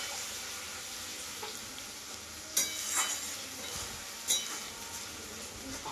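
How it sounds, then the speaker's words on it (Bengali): Spice masala fries in a pan with splashes of water added while cooking goat curry, giving a soft, quiet sizzle broken by a couple of sharp stirring clinks. "জল দিয়ে দিয়ে ভাজবো, মশলা যেমন পুড়ে না যায়।"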